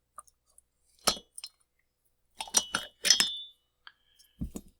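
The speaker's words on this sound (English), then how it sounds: "we got ball bearings hitting the workbench" Loose ball bearings from a worn Stihl MS311 chainsaw clink and rattle onto a workbench in several short, bright bursts of metallic impacts, close and fairly loud.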